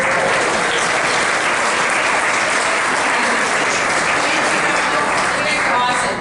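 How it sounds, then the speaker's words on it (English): A crowd at a cannabis industry event applauds loudly and steadily throughout, a thick wall of clapping with crowd noise and no speech over it. "But how about a big round of applause for our partners here at 10 Barrel?"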